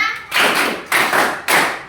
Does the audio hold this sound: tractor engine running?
no